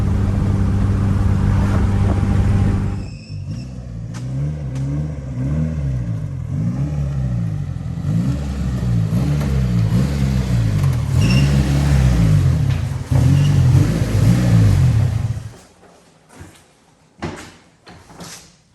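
A Yugo's small engine is held at a sustained strained rev during a burnout attempt, a loud droning roar that wavers in pitch for about twelve seconds, then cuts off into a few scattered clunks.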